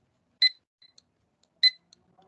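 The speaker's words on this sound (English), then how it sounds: "So you'll hear beep here." A barcode scanner registering with a Digital Factory v10 direct-to-film printer gives two short, bright beeps about a second apart, close and clear against near silence.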